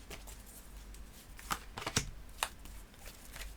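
Tarot cards shuffled and drawn by hand, heard as soft, close riffling flutters and a few crisp card snaps, quiet and alone.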